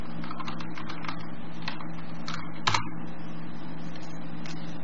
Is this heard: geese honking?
no